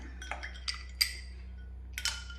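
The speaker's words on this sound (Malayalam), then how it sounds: "2 ഐസ് ക്യൂബും കൂടെ ഇടാം." Two ice cubes drop into a glass of raw mango juice, giving a few light, bright clinks spaced across a couple of seconds against a quiet kitchen hum.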